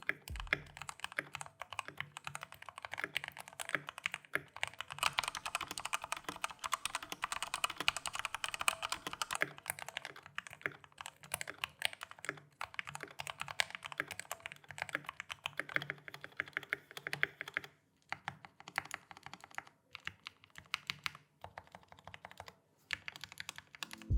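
Typing on a modded Red Dragon K630 mechanical keyboard: a dense, continuous stream of close keystrokes with brief pauses, heard alone without talk.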